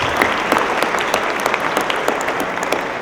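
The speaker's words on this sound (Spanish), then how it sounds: "Un fuerte aplauso para esta ronda de respuestas." Steady, loud audience applause in a hall after a panel discussion at a justice forum, many hands clapping continuously throughout.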